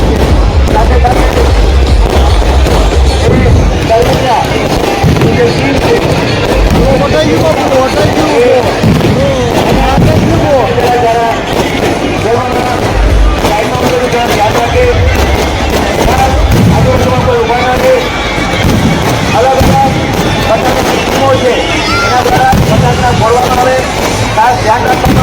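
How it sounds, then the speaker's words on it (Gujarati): Fireworks burst during a 2024 Vijayadashami Ravan dahan festival, giving a dense, continuous barrage of booms and crackles with loud talk and crowd noise running over the whole stretch. "સરસ આતશબાજી આપણે નિહાળી રહ્યા છે"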